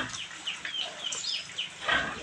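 Chickens cluck in short, scattered bursts over steady background noise during a rainy flood in a backyard. The clucks sit at moderate distance and there is no talk.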